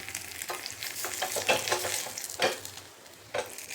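Oil sizzles steadily under a vrat bun dosa frying in a covered pan, with close, loud crackling pops rising and falling, and no voices.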